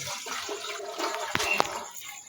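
Water poured into a hot pan of frying fritters on a gas stove, a steady splashing rush with a couple of brief sharp sizzles partway through.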